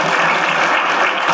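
Audience applause fills the hall at an urban education symposium, a dense, steady wash of many hands clapping close and loud, with no voices over it.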